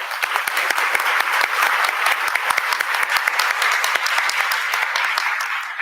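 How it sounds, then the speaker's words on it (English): Audience applause for the sponsors at an IETF plenary session, sustained dense clapping from a large crowd holding steady at constant loudness throughout. "if we could just take a minute to applaud and thank all of"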